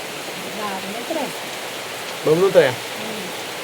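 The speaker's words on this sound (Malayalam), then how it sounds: "മഴയുണ്ട് കേട്ടാ, മഴ പെയ്യാൻ തുടങ്ങിയിട്ടുണ്ട്." Rain beginning to fall outdoors in the evening, a steady soft hiss of drops across the whole stretch, with a person speaking briefly over it.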